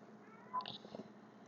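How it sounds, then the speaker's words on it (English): A cat isolated in a kennel lets out a short, low, unhappy meow-growl, faint and muffled in a quiet room. "I have a cat and a kennel because she's in isolation and she is not happy and she's growling the whole time"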